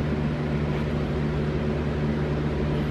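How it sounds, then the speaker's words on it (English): Steady low hum and airy whir of a fan running nearby, constant and unchanging with no voices. "sorry about the fan noise in the back"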